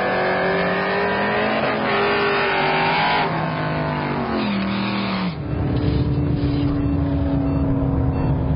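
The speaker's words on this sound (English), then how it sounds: "Mopar leaves really nice." A Mopar drag car launches down the strip at a Hot Rod Drag Week event in Tulsa, Oklahoma. Its engine roars steadily and climbs in pitch through the gears, loud and continuous, with a second engine tone joining near the end.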